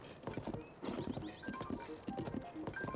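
Horse hooves clip-clop at a steady walking rhythm in The Legend of Zelda: Tears of the Kingdom, with a brief neigh or whinny mixed in near the start, fairly loud and close over a soft game ambience.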